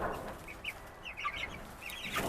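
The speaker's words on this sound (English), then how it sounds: "Very active little chicks." Cornish Cross broiler chicks at four weeks old give soft, scattered peeps and clucks at low volume over a faint background, with no talk.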